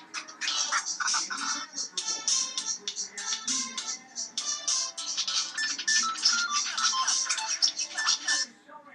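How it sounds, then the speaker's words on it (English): A bright, chiming mobile ringtone melody plays continuously with quick repeating notes, fairly loud and close, with no talking over it. "You can hear my ringtone."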